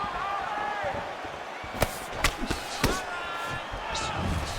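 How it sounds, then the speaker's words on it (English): Leg kicks landing in a women's MMA bout between Germaine De Randamie and Holly Holm: three or four sharp, cracking thuds in quick succession over a constant roar of crowd noise and arena commentary. "You hear the impact of that leg kick"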